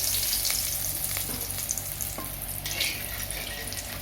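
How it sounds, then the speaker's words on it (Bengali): Whole garam masala of cardamom, cinnamon and cloves dropped into hot oil for a Bengali doi katla curry, giving a dense, steady hiss and crackle throughout, fairly loud and close, with faint clinks and no voices. "এবার গরম তেলের মধ্যে দিয়েছি গোটা গরম মশলা"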